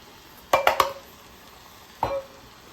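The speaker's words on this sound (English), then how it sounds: "Stir that up." A spoon stirs flour into shepherd's pie filling made with farm beef in a pot, giving a quick cluster of three scraping knocks followed by one more scrape after a pause, close and moderately loud with no talking.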